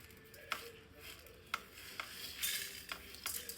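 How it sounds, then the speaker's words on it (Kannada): Ingredients dry-roasted without oil in a pan over a medium gas flame, including black pepper, stirred with a spoon; scraping strokes and occasional sharp clinks against the pan over a soft background hiss, no talking. "ಈ ಥರ ತುಂಬ ಕಪ್ಪಾಗೋದು ಬೇಡ, ಸ್ವಲ್ಪ ಲೈಟಾಗಿ ಹುರಿಯಿರಿ"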